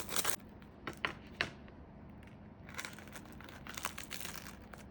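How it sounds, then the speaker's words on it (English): A knife cuts a cooked dish in half, giving a few crisp crunching and crinkling cuts near and close-up, then quieter rustling, with no talk. "I'm gonna cut this in half so we can see that beautiful inside"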